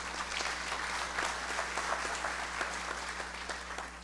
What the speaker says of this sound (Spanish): Por favor, un fuerte aplauso